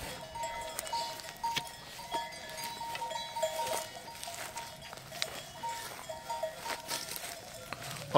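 A flock of sheep walking slowly across a highland pasture among pine trees, their bells clinking and clanging irregularly at moderate distance, with occasional faint bleats and shuffling.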